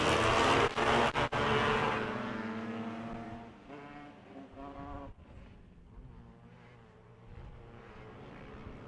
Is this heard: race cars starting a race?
yes